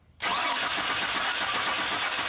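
A 2002 Chevy Silverado with a crank-no-start fault has its engine cranked: after a brief silence, a loud, steady, close cranking roar starts and holds without a break, with no voices.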